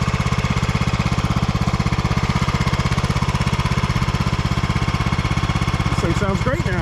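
Cub Cadet 1170 lawn tractor with a bad transmission, its engine running close by in a loud, steady, rapid thumping beat throughout, with a brief voice near the end.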